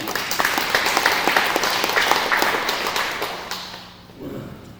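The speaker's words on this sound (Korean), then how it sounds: "우리 번영 이큰군 상임 총무님을 위해서 열렬한 박수를 한번 해주시기를 부탁드립니다" A crowd at a Korean land-management report meeting gives an enthusiastic round of applause, dense and steady before fading out near the end as a voice begins.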